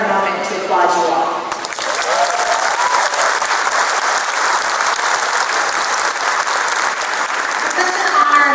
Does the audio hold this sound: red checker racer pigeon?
no